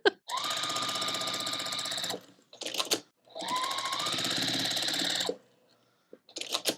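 A sewing machine stitches quilt block rows in two long, steady, close runs of rapid whirring, each ending with a short clatter of handling noise before the next run begins.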